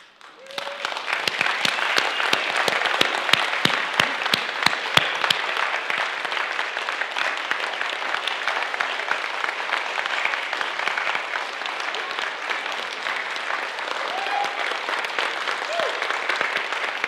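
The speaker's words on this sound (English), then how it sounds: "now I want you to hold your applause for a moment" Sustained applause from a large church audience, steady and dense throughout, with a few faint voices beneath it.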